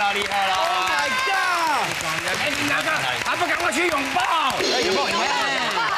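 A studio group claps and cheers for Boyan, the team's only man, after he drank the last bitter tea on a Taiwanese variety show, with lively whoops and excited voices over steady applause.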